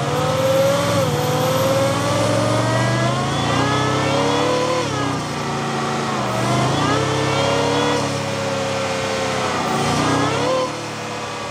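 A Ford Raptor R on a drive, its engine loud and close, revving and accelerating in repeated rising and falling sweeps with gear changes, easing off near the end.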